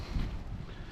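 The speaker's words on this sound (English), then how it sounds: "Weather looks good. It's windy, pretty chilly." Wind gusting on a chilly, cold morning along the Pacific Crest Trail, a steady low rumble of buffeting against the microphone that swells briefly near the start and continues without talk.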